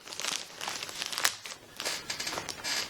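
Plastic packaging bag held shut with tape being pulled open to unbox Hayabusa Marvel Hero Elite Captain America boxing gloves, giving continuous close crinkling and rustling with a sharper tearing burst midway and no talking.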